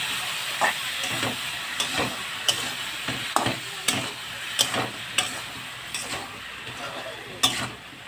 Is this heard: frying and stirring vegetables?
yes